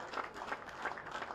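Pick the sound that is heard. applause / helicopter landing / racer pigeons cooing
applause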